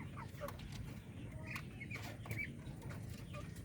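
Several hens cluck softly and intermittently in a farmyard, with short calls scattered over a steady low background rumble and no talking.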